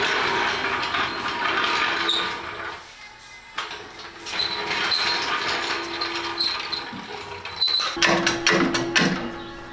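A ratchet strap being cranked to raise a Miata subframe for mounting an Exocet chassis, giving bursts of close mechanical ratcheting clicks with short pauses and a denser run of clicks near the end.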